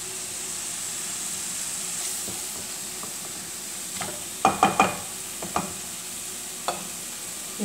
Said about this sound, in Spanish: Lo removemos así.